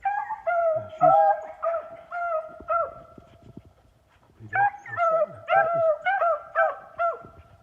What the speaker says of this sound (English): I just heard Minnie bark down at the beginning, down at the front.